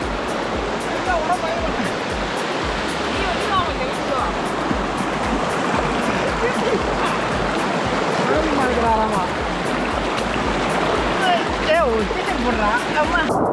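Fast-flowing mountain river water at Puliyancholai rushes in a loud, continuous roar, close by and steady throughout, with splashing textures layered in; people talk faintly beneath it.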